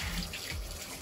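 Tap water runs steadily as a human hair full lace wig is rinsed, a continuous close splashing flow with no pauses and no talk.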